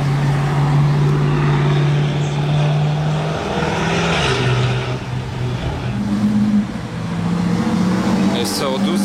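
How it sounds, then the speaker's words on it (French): An Audi RS6 on the street gives a loud, close engine note: a low steady drone that rises and shifts pitch in steps as it revs, with people talking over it. "Cette RS6 elle fait du bruit."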